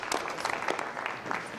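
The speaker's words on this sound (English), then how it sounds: "Can we get one final round of applause and congratulate them on a job well done" Audience applause at a school board meeting, honoring staff for their work with students; a steady, moderately loud patter of many hands clapping, with no talk over it.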